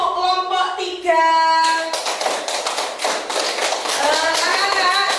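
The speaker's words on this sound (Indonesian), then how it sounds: "Beri tepuk apresiasi untuk kelompok 3." A classroom of children gives a rhythmic patterned clap in appreciation for a student group, quick, sharp hand claps in bursts, with sung or chanted voices woven through.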